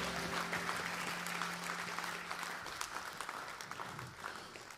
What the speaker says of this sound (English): Let's have a big round of applause to Jesus and the worship team.